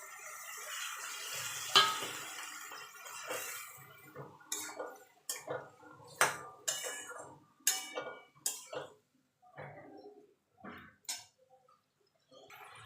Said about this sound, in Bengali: সামান্য একটু জল দিয়ে ভালো করে মশলাটা কষিয়ে নেব।